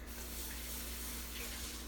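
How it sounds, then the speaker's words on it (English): Water runs in a steady, faint hissing stream, like liquid poured into a sink, with a low hum underneath. "Pour that down the drain."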